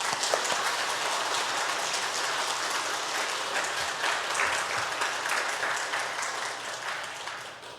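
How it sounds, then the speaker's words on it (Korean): A church congregation in Busan claps together to welcome the pastor during a Sunday service, producing a dense, even, rain-like patter that holds steady for several seconds before easing slightly. "목사님 나오실 때 우리 함께 박수로 환영해 드리도록 하겠습니다."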